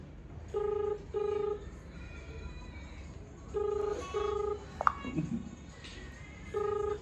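Repeated ringback tones of a phone call to a friend, about four evenly spaced long beeps with gaps between them, heard fairly clearly over a low background hum.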